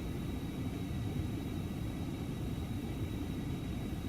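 Steady broadband rumble and hiss inside the cabin of a Phenom 300 business jet in a flight simulator, a continuous engine and airflow drone with a faint high whine, no talking.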